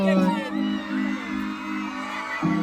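A crowd cheers and screams with sustained high-pitched voices, loud and close, swelling and dipping in waves.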